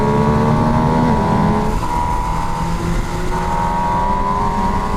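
A triple-cylinder motorcycle engine with a quick shifter and blipper revs and accelerates close by, its smooth, steady whine climbing through the gears without a break.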